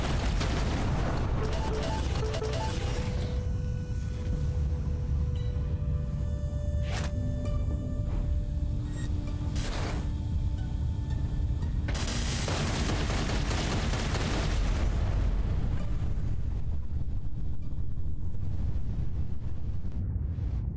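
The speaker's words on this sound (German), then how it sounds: "Und irgendwas ist komischerweise explodiert." A muffled boom and rumbling blasts in the game Everspace 2 rise over a constant windy roar, with a few brief sharp cracks scattered through the noisy scene.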